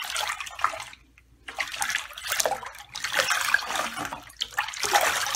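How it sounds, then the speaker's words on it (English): Water is splashed around by hand in a tub of black brew, giving loud, close sloshing and splashing in irregular bursts with a brief quiet gap. "I completely changed my black water of just me splashing that up."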